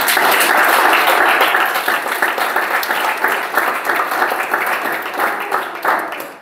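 Church congregation applauding, dense sustained clapping from a crowd that starts loud and gradually thins out.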